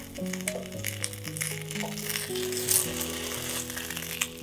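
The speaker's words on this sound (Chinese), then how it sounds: "然后沾完酱汁之后快速的煎一煎" Thick-sliced French toast soaked in sauce frying in a pan, a soft sizzle and light crackle running under steady background music throughout.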